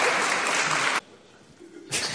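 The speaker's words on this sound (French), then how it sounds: "On peut les applaudir." Audience applause for children after a drawing game at a French church gathering, a burst of clapping lasting about a second before dying away, then resuming briefly at the end.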